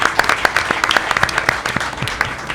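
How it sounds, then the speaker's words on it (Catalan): A loud, dense burst of audience applause at a live Catalan entertainment show, many hands clapping together continuously and close, with crisp individual claps standing out. "un aplaudiment molt fort."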